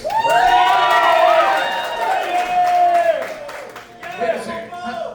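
A big band crowd cheers and claps in a song vote, with loud whoops and shouts over the clapping that dip midway before a brief second swell.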